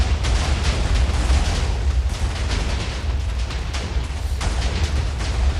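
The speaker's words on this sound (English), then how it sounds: "there's no way the explosion's lasting this long" A long explosion from the Minecraft 1.15 video game roars as a continuous loud, dense rumble for the whole stretch, with heavy low boom and crackling bursts layered throughout and no pauses.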